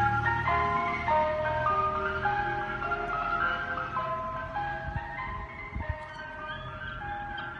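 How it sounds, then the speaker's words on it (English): An ice cream van plays its chiming electronic tune, a bright melody of quick held notes at moderate distance, with a low engine hum and some faint street noise beneath. "ice cream vans will usually play a tune to let you know that they're set up and selling ice cream"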